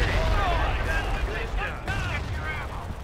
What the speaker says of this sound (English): Taking cannon fire.